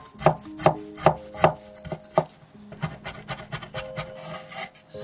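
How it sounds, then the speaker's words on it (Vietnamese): A knife mincing slices of ginger on a wooden cutting board for wonton noodle soup, first five or six spaced heavy chops, then a faster run of lighter rapid chopping, close and distinct with no voices. "Băm thêm 3 lát gừng khoảng 4g."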